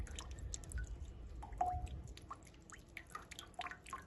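Fresh apple juice from a juice press drips in quick, irregular wet plops, close and fairly quiet over a low background rumble.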